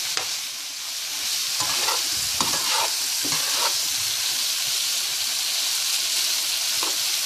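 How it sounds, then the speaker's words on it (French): Shrimp being stirred with tomato paste and chopped chili in a hot pan for a Creole coconut-milk shrimp fricassee, giving a steady close sizzle broken by repeated scraping stirs, with no talking. "On brasse bien pour que le pâte de tomate soit bien réparti"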